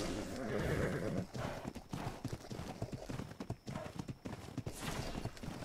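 In the Ark: Survival Evolved video game, a horse's hooves clip-clop in a steady rhythm while the horse neighs loudly in the first second, then its footfalls keep going close up.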